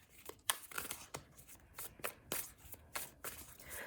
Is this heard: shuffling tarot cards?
yes